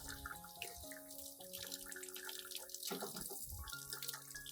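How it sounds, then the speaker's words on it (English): Clean running water pours steadily over a houseplant being rinsed after pruning, splashing and trickling close up at a sink with faint drips, and no one speaks. "rinse the entire plant thoroughly with clean water"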